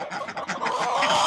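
Roosters and ducks feeding, clucking in a quick, close burst of short calls, with a rougher sustained bird call building toward the end.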